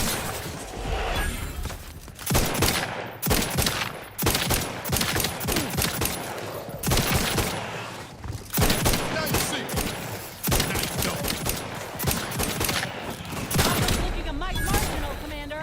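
Gunfire in The Outer Worlds 2, dense and loud throughout, with rapid overlapping shots and impacts in a busy firefight.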